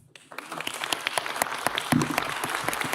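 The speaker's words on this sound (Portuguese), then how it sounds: "Aplausos aos nossos painelistas." Audience applauding panelists at the close of a Brazilian finance panel on multimarket fund strategies, a dense steady wash of many hands clapping, filling the room throughout.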